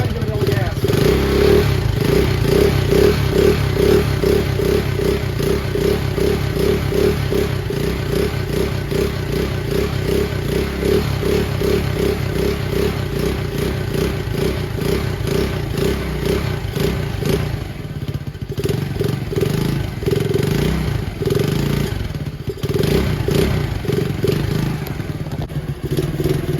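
A Honda Dax clone motorcycle with a 125cc engine revs under throttle, its fast, loud, chattering exhaust pulses rising and falling near the microphone, with a brief dip before picking up again.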